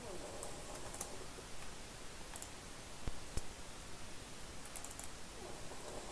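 Mouse clicks and light keyboard taps on a computer, a few faint sharp clicks scattered over a steady background hiss.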